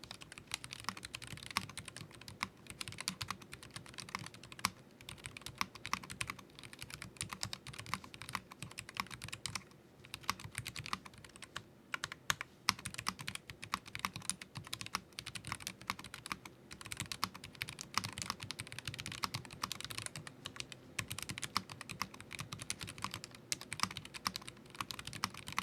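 Brisk, continuous typing on a Royal Kludge N80 low-profile wireless 75% keyboard padded with IXPE foam and a silicone dampening pad, close up, with dense, muted key clacks running steadily throughout and no talking.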